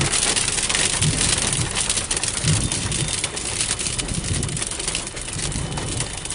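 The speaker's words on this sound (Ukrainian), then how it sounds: "вже такий вже менше град йде" Hail pounding a car and the ground during a storm in Chernivtsi, a dense, loud, continuous drumming of impacts with heavier thuds mixed in, heard from inside or beside the vehicle.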